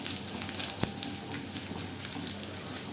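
Chopped onions and a dried red chili fry in a pan, giving a quiet, steady sizzle with one brief click partway through.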